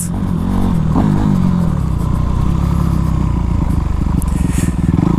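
A Honda CRF450 dirt bike engine close by, a loud continuous throbbing rumble with a rapid pulsing beat and rising revs, steady throughout with clattering mechanical noise and no talking.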